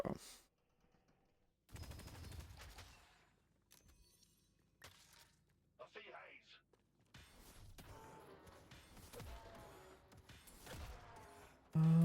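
Gunfire in Deadlock comes in bursts of rapid shots separated by quiet gaps, with clicks and mechanical handling sounds between them, at fairly low level, and a person talking in some stretches.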